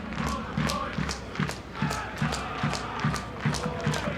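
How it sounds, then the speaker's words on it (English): The home crowd at an FC Edmonton soccer match against the Fort Lauderdale Strikers chants and claps in a steady rhythmic beat, roughly two pulses per second, as a distant, moderately loud stadium roar. "Home crowd trying to give the players a boost here."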